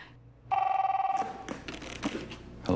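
A telephone rings in a home-appliance commercial, a single sustained electronic ring tone that starts abruptly and holds for under a second, followed by clattering background sounds.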